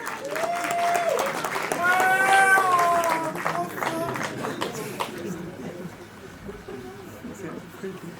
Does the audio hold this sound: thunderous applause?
yes